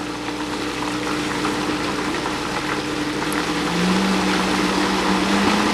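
A blender purees curried acorn squash soup on variable speed, its steady motor whir and churning liquid continuous and close, with the pitch rising slightly as the speed is turned up.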